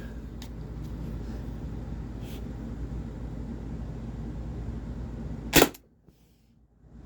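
A single sharp, loud shot from an Umarex TR68 T4E revolver firing 6.3 gram D-type rubber steel shells cracks out near the end over a steady background hum, followed by near silence.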